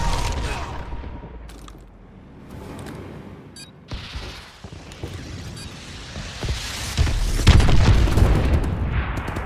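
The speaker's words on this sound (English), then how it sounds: "Enemy missile strikes incoming." Missile strike explosions in Call of Duty: Advanced Warfare, with several deep booms and crashing blasts of varying loudness, the heaviest impacts near the end over a rumbling battlefield bed, mixed with clicks and mechanical noises.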